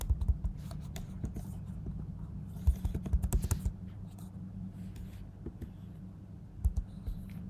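Steady, close keyboard typing with quick irregular key clicks, a few louder bursts, over a low background hum.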